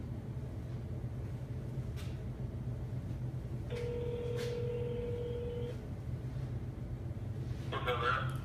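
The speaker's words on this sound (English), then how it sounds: "Let me call Gregory real fast." Telephone dialing a call, a sustained electronic tone lasting about two seconds with short beeps over a steady low hum, then a brief burst of tones near the end.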